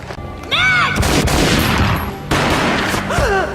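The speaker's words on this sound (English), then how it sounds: "A gunshot boomed and she fell down in slow motion." Loud bursts of gunfire from the Max Payne video game boom and crackle in a dense cluster, with a short sweeping whine at the start and end.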